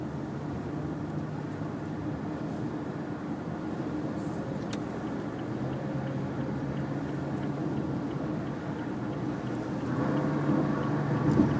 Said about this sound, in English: as we accelerate onto the thruway, I just want to make sure the vehicle feels like it has enough power for you